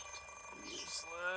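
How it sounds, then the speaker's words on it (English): In the Fate/Stay Night visual novel, an alarm clock rings with a thin, high electronic tone that repeats in short pulses, faint and fairly brief. "I stop the alarm clock with a sigh."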